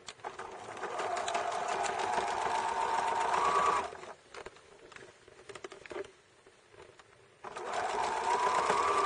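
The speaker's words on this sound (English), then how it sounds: "I stitch really close to the top edge, and I start right around where the center seam is on the bag" Sewing machine stitching close along the top edge of a fabric pin cushion scrap bag, a quick steady mechanical whir in two runs separated by a pause with faint handling sounds.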